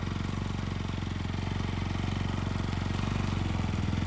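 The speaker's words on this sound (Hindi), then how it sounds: "इसके बाद अर्जुन कॉलेज से अपनी बाइक पर बैठकर घर की ओर निकल गया।" A motorbike rumbles as a rider leaves college for home, a steady close engine throb holding level throughout with no voices.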